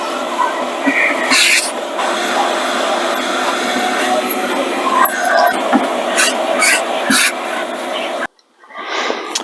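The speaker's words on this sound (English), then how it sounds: "Just going to vacuum that out" A vacuum cleaning out a Chevrolet Squarebody truck during a heater core replacement runs with a steady whooshing roar and intermittent clunks and scrapes, then cuts off abruptly near the end, leaving a fading whir.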